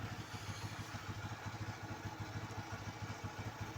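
A motorcycle engine idles steadily during an engine oil flush, giving a low, even, pulsing putter with light mechanical clatter. It runs alone and fairly close, with no talk.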